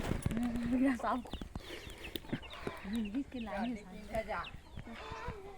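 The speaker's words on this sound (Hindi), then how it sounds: "और देखो हमार मुर्गी मन इच करा रथे मन भागे नहीं" Chickens cluck and call repeatedly nearby in a busy, uneven stream of short squawks and drawn-out clucks, while people talk at times.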